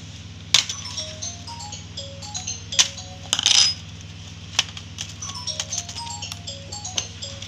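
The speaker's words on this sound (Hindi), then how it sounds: "ये लॉक हमें खोलने होंगे।" Plastic locks on a laptop keyboard connector being flipped open at a service centre: scattered sharp clicks and small clinks, a few louder snaps among quieter taps over a steady low hum.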